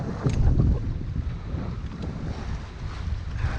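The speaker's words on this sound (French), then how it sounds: "Nous sommes à la voile." A sailboat under sail in a southeast wind, with steady rushing wind buffeting the microphone and low water wash around the hull, continuous and fairly loud.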